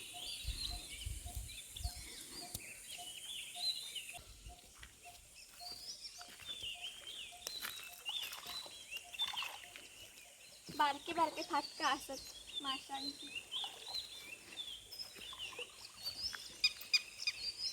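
Birds call by a village river in the evening, with repeated chirps and trills scattered throughout, faint and a little distant, while someone talks over them.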